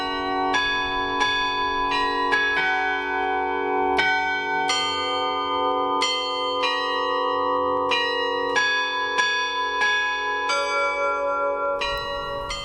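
A church bell rings loudly and steadily, with strikes every second or so whose ringing tones overlap and sustain. The bell is bronze and bears an image of the apostle Santiago. No one speaks.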